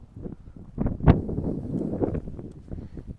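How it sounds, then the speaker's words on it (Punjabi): Strong wind on a hilltop beyond Shimla buffets the microphone in low rumbling gusts, with one sharp blast in the middle and no talk over it. "ਇੰਨੀ ਤੇਜ਼ ਹਵਾ ਆ ਤੇ ਆਪਣੇ ਆਪ ਨੂੰ ਮਤਲਬ ਸੰਭਾਲਣਾ ਔਖਾ ਆ"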